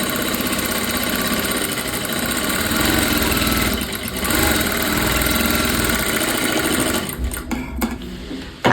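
A sewing machine stitching a katori blouse seam runs in a loud, steady, close rapid mechanical chatter, then stops and starts in short bursts near the end.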